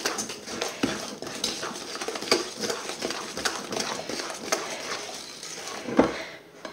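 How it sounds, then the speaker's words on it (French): Tiramisu mixture stirred in a bowl until smooth, a spoon scraping and clinking against the bowl in an uneven, continuous rhythm with occasional sharper taps, close and moderately quiet. "il faut remuer jusqu'à obtenir"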